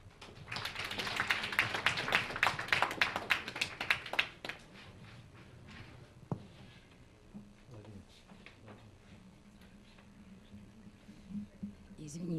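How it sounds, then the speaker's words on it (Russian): An audience at an exhibition opening in an embassy hall applauds in a dense burst of clapping that fades after a few seconds into scattered claps, with quiet room noise afterward. "Аплодисменты."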